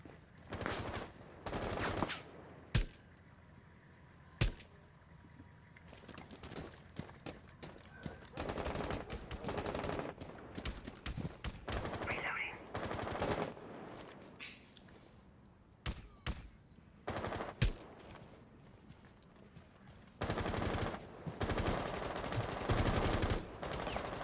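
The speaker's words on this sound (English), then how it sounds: "Somebody's shooting at you" Gunfire in Rainbow Six Siege, with repeated bursts of automatic weapon fire and single loud shots, some near and some further off, scattered across the stretch with thuds between and game ambience underneath.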